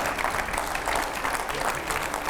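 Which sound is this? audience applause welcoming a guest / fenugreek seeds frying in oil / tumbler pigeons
audience applause welcoming a guest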